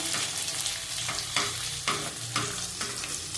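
Steady oil sizzle of chilies frying in a pan, with periodic scraping strokes of a spatula every half second or so, close and continuous.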